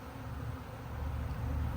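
A steady, close hum of many honeybees swarming around their hive box in a bee yard, low and continuous, growing slightly louder toward the end.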